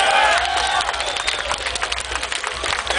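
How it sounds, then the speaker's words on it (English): Concert crowd at Maryland Deathfest, a metal festival in Baltimore, cheering and clapping in a loud, steady roar of applause and shouts that fills the hall without a break. "I want you to give them like a big fucking applause"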